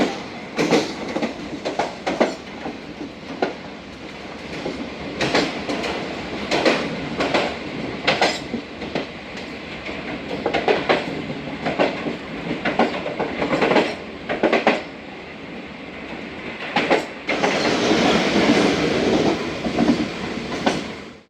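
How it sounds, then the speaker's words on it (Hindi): A passenger train rushes through a station at about 65 km/h on a Pakistan Railways line, its wheels clattering rhythmically over rail joints in a loud, steady, close rumble that swells toward the end, with no talk. "पन्नो आकिल कैंट पास हो रही है जनाब ट्रेन"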